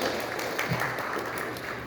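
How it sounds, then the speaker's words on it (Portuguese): A small audience claps warmly at an evening book launch, a brief, soft, steady patter of hands with a faint murmur of voices. "eu já peço palmas sinceras e afetivas"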